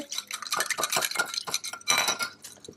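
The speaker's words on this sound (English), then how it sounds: "And then give this a good stir." A metal spoon scrapes and clinks against a pot as a dish is stirred, giving a quick run of close, bright clatters and rhythmic scraping strokes.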